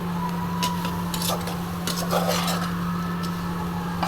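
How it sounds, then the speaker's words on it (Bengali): Okra being stirred with spices in a pan, soft scrapes and light metal clinks over a low steady hum, with only a faint sizzle underneath. "ভেন্ডিগুলো দিয়ে আমি কিছুক্ষণ নাড়িয়ে নেব অ্যান্ড কষিয়ে নেব"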